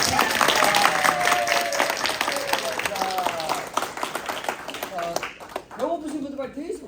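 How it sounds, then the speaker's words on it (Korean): Audience applause in a Korean Catholic church after a priest's Advent lecture, clapping from a seated congregation that thins out midway, with voices talking over and after it. "크게 박수 한번 칠까요?"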